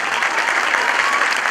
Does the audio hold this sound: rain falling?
no